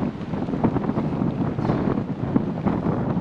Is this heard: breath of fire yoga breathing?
no